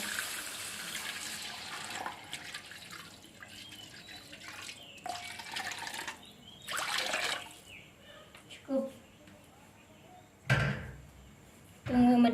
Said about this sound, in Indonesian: Kasih air ya teman-teman secukupnya, sesuai selera masing-masing ya.